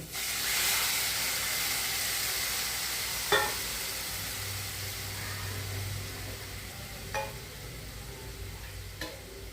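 Hot oil sizzles with a steady, close hiss throughout as urad dal batter cooks, broken by a few soft scraping clicks from stirring.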